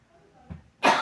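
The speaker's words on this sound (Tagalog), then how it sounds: "Parang may ubo ka." A single sharp, loud cough bursts out near the end during a card game of tongits, after a faint throat sound and a quiet stretch.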